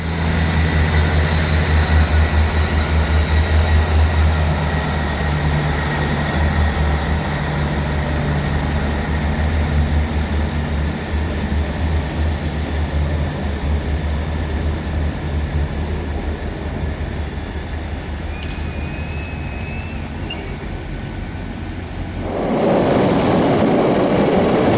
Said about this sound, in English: Last train to King's Cross coming in